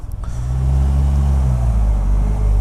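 A Polaris Slingshot engine revving hard from too much throttle, a loud, deep, close drone that swells after a short rough start and holds steady with slight pitch shifts.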